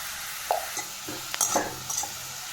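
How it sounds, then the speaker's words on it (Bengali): Fenugreek greens frying with salt and turmeric while being stirred, several distinct scrapes and clinks of a utensil against the pan over a soft sizzle, close and alone. "এটা ভালো করে আমি নেড়ে চেড়ে"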